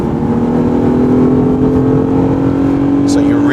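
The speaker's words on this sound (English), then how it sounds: "when you accelerate in a more aggressive fashion, you'll hear the engine sound coming into the cockpit area" A 2013 Lexus GS 350 with its engine sound generator piping the V6 note into the cabin while accelerating, a steady loud droning hum with a sustained low tone held throughout.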